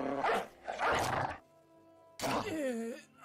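A war dog in the Battle Brothers video game barks and growls in a few loud, gruff bursts, with a short gap between them, mixed with a voice talking.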